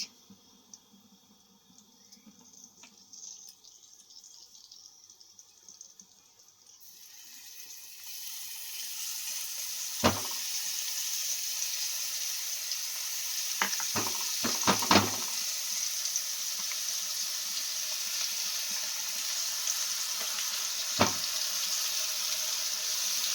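Onions go into a hot pan in a Bengali home kitchen and a steady sizzle of frying sets in partway through, with a few sharp clinks of a spoon against the pan; no one speaks.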